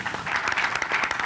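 A council assembly applauds to adopt its 2022–2024 three-year programme by acclamation, a dense burst of clapping from many hands close by, brief and continuous.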